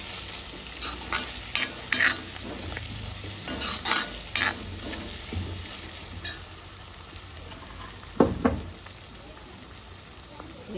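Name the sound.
stirring boti curry with Guntur chili powder in pan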